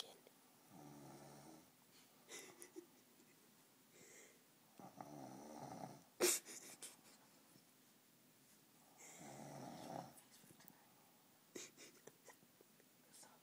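A person snores in loud, rough, rhythmic bursts, each long inhale followed by quiet pauses, with one sharp snort partway through.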